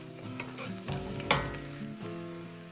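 Spare ribs stir-fried in a wok for Sichuan-style dry pot, with steady sizzling, scraping and clattering of the spatula, and one louder clang midway, close and without talk.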